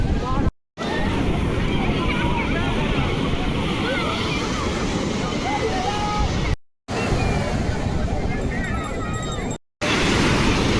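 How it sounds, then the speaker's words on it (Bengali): Rough sea surf rolls and crashes continuously onto the crowded sand at Puri beach, a broad roaring wash mixed with wind buffeting the microphone and distant crowd babble, cut by a few short gaps. "দেখেছো বন্ধুরা সাংঘাতিক ঢেউ দিয়েছে"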